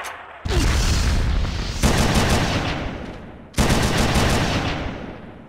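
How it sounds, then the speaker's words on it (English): Automated turrets in a video game fire loud sustained bursts of rapid gunfire, three long rattling volleys separated by brief pauses, close and dominant with no talking. "the turrets are automated"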